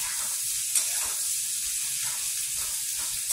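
Turmeric and curry leaves sizzling with eggplant in a hot pan, a steady close hiss of frying oil with faint crackles and no talk.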